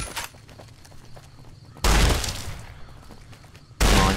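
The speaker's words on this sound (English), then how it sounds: "Who's shooting at my back?" Gunfire in the video game Fallout New Vegas: two heavy, loud bursts of shots, each a sudden blast with a rumbling tail, the second cutting in near the end, over a busy game background.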